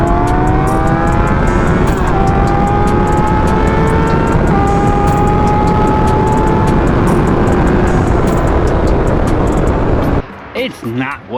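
Two Yamaha R1 motorcycles accelerating hard side by side, loud and close, their engine notes rising steadily through the gears for about ten seconds before cutting off abruptly into quieter rumble.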